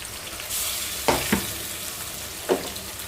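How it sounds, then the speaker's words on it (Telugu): Masala paste and onions fry in a pan for a fish curry, giving a soft steady sizzle broken by a few sharp scraping stir strokes, close and fairly quiet with no talking. "ఇప్పుడు మసాలా ముద్ద వేసి వేయించుకుంటున్నాను"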